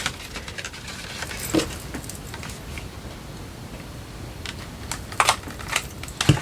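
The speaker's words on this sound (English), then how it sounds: "I'm just folding them down, folding" Paper pages of a small pocket journal being folded down, giving soft crisp creases and rustles with a few sharper crackles near the end, close and quiet, no talking.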